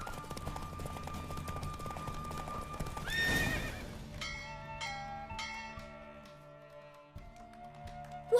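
Clip-clop of a horse galloping in The Witcher 3 video game, with neighing and whinnying, a church bell ringing in the background and steady hoofbeats throughout.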